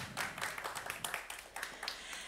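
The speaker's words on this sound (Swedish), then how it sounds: "Hallå, en applåd." Short burst of audience applause after a moderator is welcomed at a daytime seminar on the housing crisis, many hands clapping at close range in a steady patter with no talk over it.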